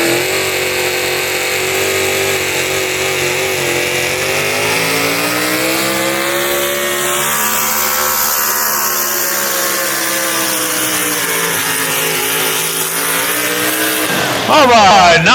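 Chevrolet pulling truck, the Fireman's Express, roaring steadily down the pull track at a tractor and truck pulling event in Ardmore, Tennessee, a loud sustained engine drone with shifting pitch throughout, cut short by a burst of noise at the end.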